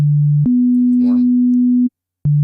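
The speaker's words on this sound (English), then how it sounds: "Let's make it sine. I always like sine waves." A synthesizer holds a steady, pure sine-wave tone, then steps up to a slightly higher sustained pitch for over a second, breaks off into a short silence, and returns to the lower note, loud and clean with faint background noise.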